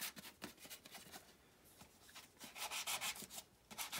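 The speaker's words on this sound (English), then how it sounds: "We are going to go back and go that way with the sandpaper now." Sandpaper rubs across a resin bowl in quick back-and-forth strokes, soft and close, with the scratchy strokes growing denser and louder toward the end.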